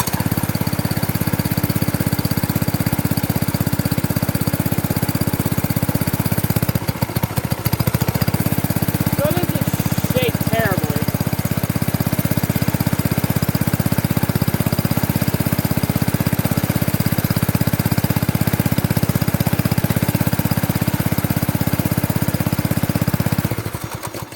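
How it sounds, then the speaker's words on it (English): A Predator 212 small engine being fitted with a turbo runs loud and steady from start to finish, a continuous close-up mower-like drone with brief dips in the roar. "So I will start the engine up here and show you guys how much this will shake."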